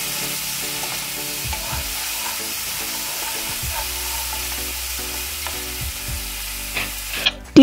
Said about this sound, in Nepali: अदुवा, लसुन, जिरा धनियाको पेस्ट राख्ने र एकछिन मजाले चलाउने